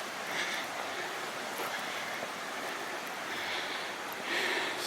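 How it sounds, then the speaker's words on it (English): Creek water flowing through a culvert beneath a railway line, a steady broadband rush heard up close with gentle swells in level and no talking. "Coming up to a creek crossing under a culvert, because I can hear the creek on both sides."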